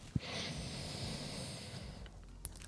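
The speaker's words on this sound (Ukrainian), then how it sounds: "І вдих." A slow, deep inhale during an exercise routine, a long airy breath drawn in smoothly over about two seconds, close to the listener, opening and ending with short sharp sniff-like sounds.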